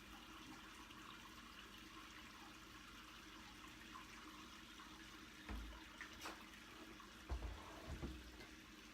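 Faint, steady water trickling in a Braumeister 20-liter homebrewing system during fly sparge, a quiet continuous hiss with a few soft low thumps near the end.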